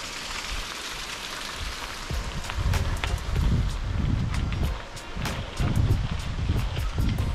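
Rain patters steadily on a surface during a mountain bike tour in the Alps, with gusty wind buffeting the microphone in surges and low rumbles.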